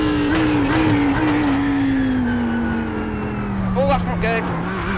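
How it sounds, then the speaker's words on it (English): An LMP prototype race car in iRacing, running in a multiclass GT3 IMSA GTD race at the Nürburgring GP circuit, drones steadily with a falling engine pitch, loud and continuous, while a voice talks over it. "we've got a LMP who's going to catch us here"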